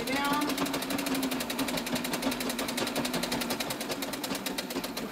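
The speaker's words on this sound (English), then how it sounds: "this is a treadle machine I'm working with here. That's why it may sound very different." A treadle sewing machine runs a straight stitch in a fast, steady mechanical chatter that stays even throughout, with a low hum underneath.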